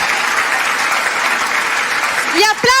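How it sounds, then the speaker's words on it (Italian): Dense, loud applause from a crowd fills the clip, with a voice breaking in near the end. "Gli applausi grandi."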